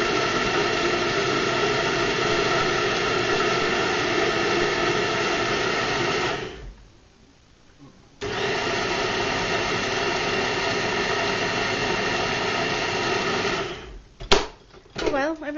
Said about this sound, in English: everybody who didn't know how a blender works knows that now